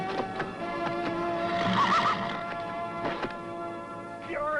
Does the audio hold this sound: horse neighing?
yes